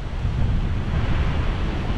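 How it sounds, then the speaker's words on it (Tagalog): Strong waves crash on the shore in Kuwait in a loud, dense roar of surf mixed with gusting wind noise, with no talk. "yung hampas ng alon na yan oh."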